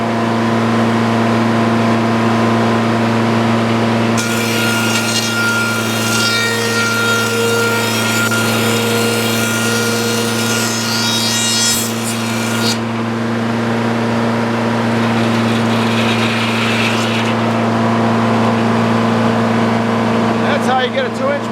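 A sawmill cutting boards from a log for a Jeep box, its engine droning loudly and steadily throughout while a bright, hissing cut rises over it for several seconds, fades, then returns briefly.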